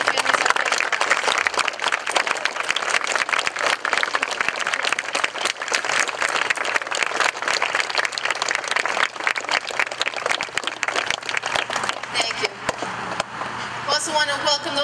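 An outdoor Civil War remembrance ceremony audience applauds for local veterans, a loud, sustained burst of clapping lasting throughout before thinning toward the end.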